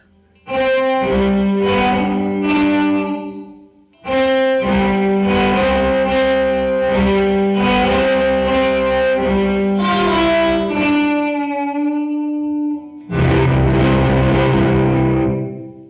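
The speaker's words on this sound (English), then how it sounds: "Mix all the way up on a reverb" Sustained, heavily distorted electric guitar chords through a Catalinbread Soft Focus reverb pedal with the mix fully up, washed in thick reverb, ringing out in long swells with a brief pause and a final loud strum.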